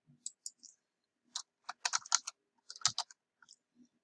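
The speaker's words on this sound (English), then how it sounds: "I can see if I start typing" Keys clatter on a computer keyboard in quiet bursts, a few isolated taps followed by quicker clusters of clicks, close and fairly soft with silence between.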